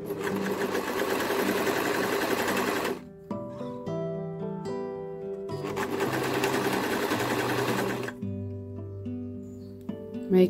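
A sewing machine stitches a tote bag in two loud, rapid, steady bursts of mechanical whirring, each followed by a pause with clicks and tonal notes from the machine.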